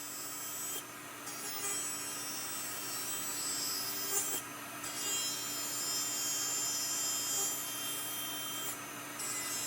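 Rotary grinder working an acrylic denture baseplate, thinning it down, giving a faint steady rasping whine with a few brief pauses and slight shifts in pitch, with no talk.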